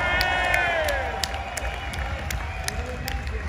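A concert crowd cheers and shouts at a show, a dense, steady roar of voices with a few whistles cutting through, fading slightly after the first second.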